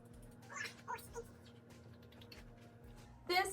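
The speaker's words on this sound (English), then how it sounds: "This is my cat Lacey." A female tabby cat named Lacey meowing indoors, a few short, quiet meows spaced apart with a louder one at the end, over a low household hum.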